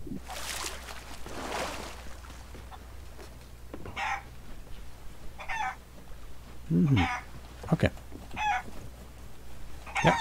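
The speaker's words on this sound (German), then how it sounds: "Hühner sind es ja nicht gewohnt, unter Wasser zu sein" Chickens cluck in short, scattered bursts in the pirate video game Sea of Thieves, interspersed with brief bird-like calls against a quiet background hum.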